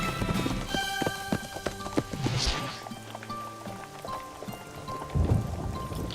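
Horse hooves clip-clop in a cartoon, a series of sharp, close knocks in an uneven trotting rhythm with music tones sustained underneath.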